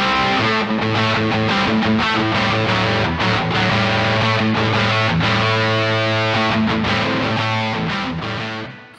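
Distorted electric guitar played DI straight into a Joyo Oxford Sound overdrive pedal with added reverb rings out in loud, continuous chords and riffs, alone with no talk, fading at the very end.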